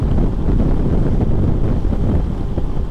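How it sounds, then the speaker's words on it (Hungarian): Strong wind roars steadily across the microphone during a bicycle descent of the Izoard pass, a dense, buffeting rush with no break. "elég nagy szél van"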